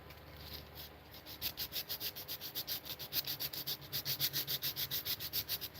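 A rotary tool sanding wooden hoop earrings, faint rapid rhythmic rubbing strokes in a quick even train, close by and quiet.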